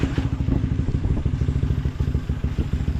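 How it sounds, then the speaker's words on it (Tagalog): A Honda CB150X motorcycle idles close by, its engine putting out a steady, throbbing rhythmic pulse with a slight mechanical clatter, loud and unbroken with no talking. "Ayan na yung motor."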